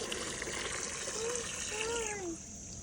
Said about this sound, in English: You gotta get the flowers some water.